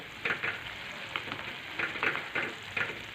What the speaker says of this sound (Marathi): ह्या फोडणीच्या पाण्याला मस्त अशी उकळी आलेली आहे तर त्यामध्ये आपण ज्या शेवाळ्या घेतल्या होत्या ना त्या शेवाळ्या